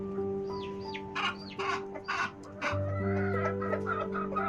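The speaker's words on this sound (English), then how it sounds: "Hens lay eggs and care for their chicks." Hen clucking on a farm, a series of short rhythmic clucks and squawks, close and fairly loud over a steady low hum, with a few brief bird-like calls mixed in.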